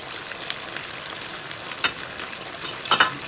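Pork liempo sizzling in a pan with calamansi juice while being stirred, a constant crackling fry punctuated by a few sharp utensil scrapes and louder spatters, close and alone.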